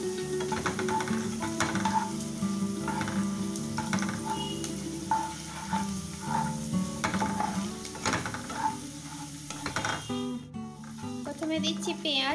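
Vegetables for veg chowmein, onion, cabbage, carrot, capsicum, peas, cauliflower, potato and beans, sautéing in a wok; loud continuous sizzling with rhythmic stirring scrapes and metal clatter, a voice speaking over it.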